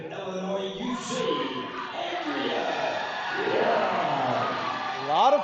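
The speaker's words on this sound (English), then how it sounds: "A lot of fans cheering for Yum out of the blue corner." Crowd noise from fans at a national amateur boxing championship, a steady roar of cheers and shouts rising slightly toward the end, with a commentator talking over it throughout.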